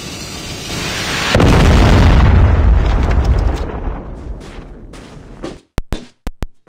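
A Predator missile explodes in the mobile game Call of Duty Mobile, one huge rolling boom that rumbles and fades over several seconds, then a few sharp pops close by.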